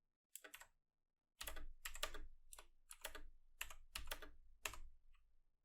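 Computer keyboard typing as Python code is entered, close crisp key clatters in quick irregular bursts after a short pause, with no talking.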